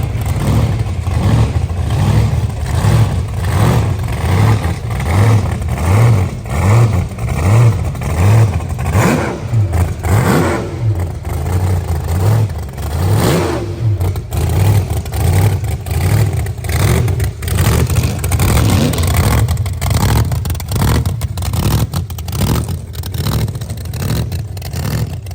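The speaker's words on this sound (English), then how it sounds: "It's a T-bucket, probably one of the coolest T-buckets on the planet." A T-bucket hot rod's engine revs loudly and repeatedly, rising and falling in sustained, throaty bursts of acceleration close by, with no talking over it.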